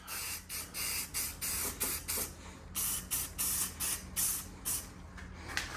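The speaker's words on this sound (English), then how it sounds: "let's go ahead and get a little rattle can rebuild going" Rattle-can spray paint is applied to golf cart parts in a rapid series of short, hissing bursts, about a dozen quick pulses with brief gaps between them, close and fairly loud.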